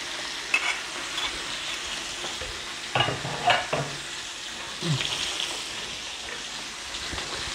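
Sardines fry in hot oil with a soft, steady sizzle, while a few sharper crackles and a light utensil clink pop up now and then, close by and quiet with no speech.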